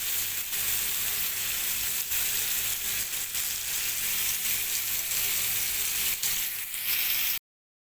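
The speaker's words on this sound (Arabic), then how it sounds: "نبتدي بقى نقلب الشيش بتاعنا، بس هو ما بياخدش ثواني، بياخد الصدمة بتاعته" Shish tawook chicken pieces fry in a hot pan with a steady, loud, continuous sizzle that holds evenly throughout, with occasional faint crackles as pieces are turned.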